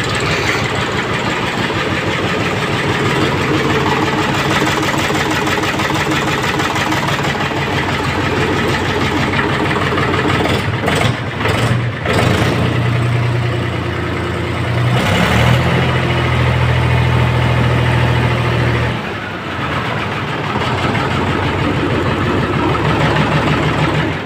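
A Mahindra 275 DI tractor idles steadily after a slow cold-weather start on a battery weakened by days of standing, its diesel rumble close and continuous with a few brief revs and dips.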